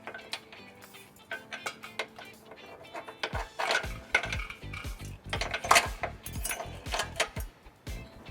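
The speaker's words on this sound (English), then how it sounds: "Now we're going to take the provided carriage bolt and plate and fish wire it through our frame." A carriage bolt and plate fished on a wire through the frame of a 2014 Ford Taurus during a trailer hitch install give off irregular, close metallic clinks, rattles and scrapes, sparse at first and then busier.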